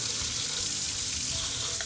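Cold water pours steadily from a tap into a pan, a continuous broadband splashing rush that stays loud and even for the whole stretch with no voices over it.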